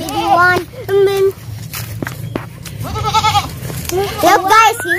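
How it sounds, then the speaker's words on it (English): A goat bleating several times up close at a simple mountain homestead, loud wavering calls mixed with people talking nearby and some footsteps. "Look, this is a goat."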